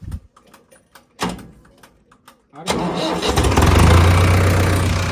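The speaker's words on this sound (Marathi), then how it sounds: "झालाय फायनल ट्रॅक्टर चालू" A few clanks and knocks, then an Arjun Novo 4x4 tractor engine cranks, catches, and settles into a loud, steady rumbling idle close by.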